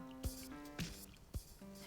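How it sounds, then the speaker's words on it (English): Saffron syrup is poured over fried doughnut pastries in a dish, giving three soft splashing, dripping bursts close by over a steady tonal background hum. "douse in the luxurious saffron syrup"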